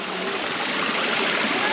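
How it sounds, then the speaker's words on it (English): A waterfall in El Yunque rainforest, Puerto Rico, gives off a continuous, even rushing roar of falling water, steady and fairly close, with no break in the flow. "hear that amazing waterfall, majestic waterfall in the background"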